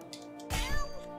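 A cartoon cat in South Park: The Stick of Truth gives a single drawn-out meow, a close, rising then falling cry that stands alone over a steady background music bed.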